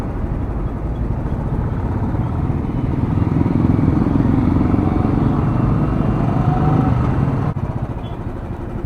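Motorcycle ridden through traffic between cars on a road from Vrindavan to Delhi, its engine droning steadily and loud up close with wind rumble, rising slightly midway, with no talk.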